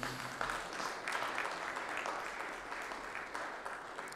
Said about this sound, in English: So I would like to request you all to give them a huge round of applause.